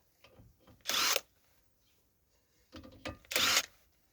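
Cordless Dnipro-M DTW-202BC impact wrench unscrewing alloy-wheel bolts from a winter studded tyre: two loud bursts of impact hammering about a second apart, each preceded by lighter handling clicks, with no talking.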